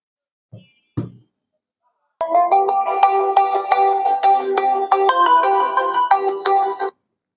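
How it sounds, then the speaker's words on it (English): Mobile phone ringtone chiming a bright repeating melody for about five seconds after a couple of short knocks, loud and clear against an otherwise silent room. "Whose mobile rang just now?"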